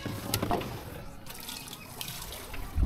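Strong water rushing and splashing over a riverbed outdoors, a continuous broadband wash with a few louder surges, fairly close and unbroken by speech.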